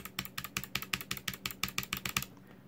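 Keys on an Anidees Prismatic wireless mechanical RGB keyboard are pressed in an even, rapid rhythm, about eight crisp clacks per second heard up close, before stopping abruptly.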